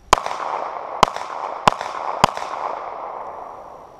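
Four sharp handgun shots from a new pistol crack out at uneven intervals outdoors, each loud, near and followed by a short fading echo.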